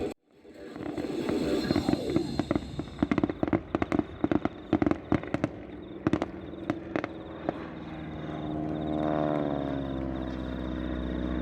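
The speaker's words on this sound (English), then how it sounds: "first, the biplane firework display" Fireworks from a biplane firework display: a rapid run of sharp crackling bursts and pops, then a long fading hiss and rumble of distant explosions.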